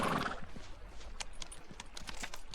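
A horse plods through heavy snow in the game Pentiment, with faint hoof clops and soft crunches spaced irregularly after a brief louder whoosh at the start, no talking.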